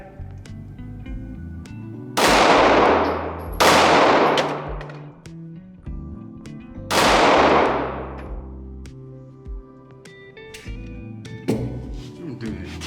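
Three sharp, loud Glock 48 pistol shots ring out at uneven intervals, each followed by a decaying echo, with quieter clicks and clinks between them.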